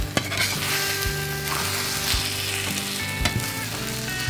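Eggs for an omelet frying in a pan, a dense steady sizzle with occasional scraping and clinks of the utensil against the pan, close, with no talking.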